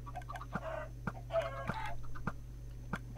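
Chickens in the Minecraft video game cluck in short, repeated bursts over a steady low hum, close and moderately loud, with no talking.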